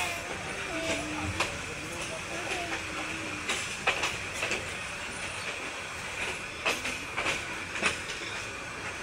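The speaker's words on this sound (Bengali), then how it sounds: "অপোজিট দিয়ে আরো একটা ট্রেন যাইতেছে" Another train rumbles past on the opposite track as the train nears Parbatipur station in Bangladesh, with steady rail noise, clacking wheel beats and brief squeals throughout, under people talking.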